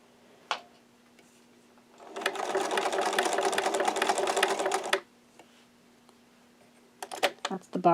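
A sewing machine stitches a buttonhole for a French mattress bench in one steady, fast whirring run of about three seconds, with quiet handling noises before and after.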